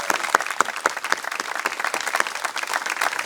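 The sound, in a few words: audience applause at school closing exercises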